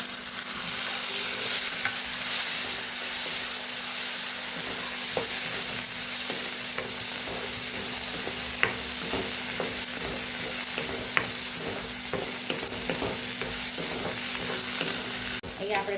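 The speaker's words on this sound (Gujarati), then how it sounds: "અહીંયા આપણે ટમેટું ઉમેરીને થોડું સાતળી લીધું છે" Onion, carrot and tomato sauté in a pan with a little salt, giving a steady close sizzle with scattered clicks of stirring throughout and no talking.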